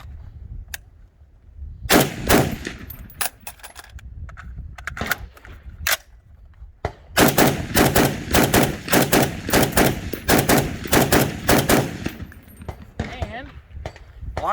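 FN SCAR 17 NRCH rifle emptying a magazine outdoors on its suppressed gas setting with no suppressor fitted: sharp, loud shots, first spaced singles, then bursts of rapid fire, with wind noise and a voice between strings.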